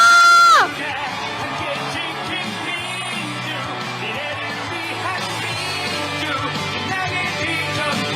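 A large crowd at an outdoor election campaign rally in Wonju, South Korea roars and cheers continuously, a dense wall of shouts and whoops that stays loud and steady throughout.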